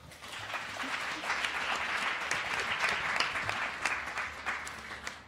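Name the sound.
audience applause for the panel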